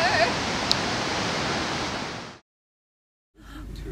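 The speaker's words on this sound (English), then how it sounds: "Raging River!" Raging river in New Zealand, a loud, close, continuous broadband rush of whitewater that cuts off abruptly, leaving silence before the roar resumes briefly.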